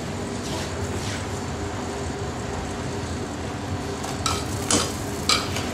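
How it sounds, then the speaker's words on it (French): Salted water boils around fresh homemade noodles in a pot, a steady close bubbling hiss with a few brief clinks and stirring sounds near the end. "Et on jette les pâtes dans l'eau bouillante."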